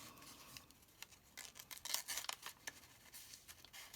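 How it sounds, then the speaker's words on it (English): Scissors snip through paper while a hidden pocket page is crafted, a quiet run of crisp, irregular cuts and rustles close by. "Yep, I'm missing the corner again with my scissors."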